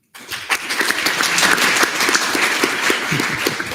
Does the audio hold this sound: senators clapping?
yes